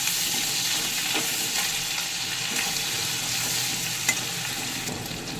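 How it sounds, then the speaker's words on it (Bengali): Potatoes frying with ground spices (cumin, chili, turmeric, Kashmiri chili powder) in a pan for a chitol fish curry, a steady close sizzle throughout with faint stirring scrapes and one small clink. "এবার মশলাটাকে একটু আলুর সাথে কষে নেব।"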